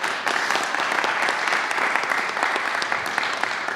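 Steady audience applause at a vaccination-site announcement in Brooklyn, a dense wash of clapping from a crowd, moderately loud and sustained without letup for several seconds.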